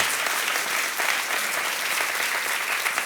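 Loud, dense applause from a large church audience fills the whole stretch, steady and continuous without a break.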